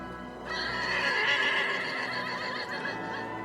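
From the film Sleepy Hollow, a horse lets out a loud, shrill whinny that rises quickly, wavers and fades over about three seconds, heard alone against quiet.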